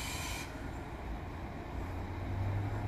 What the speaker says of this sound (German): Schon mal ein ICE 1.